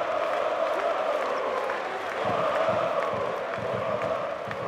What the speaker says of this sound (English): to a great cheer from the crowd